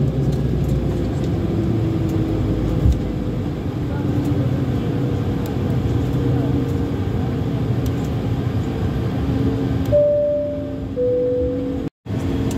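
Bulgaria Air Airbus A220-300 taxiing toward runway 09 at Sofia Vasil Levski, heard from inside the cabin as a steady engine rumble with a drone, a few tonal whines rising near the end, and a brief cutout.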